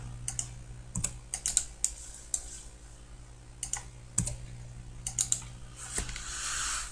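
Computer keyboard typing and mouse clicking while drafting a site plan: quick, irregular bursts of close key taps and clicks over a faint steady hum, with brief pauses between groups.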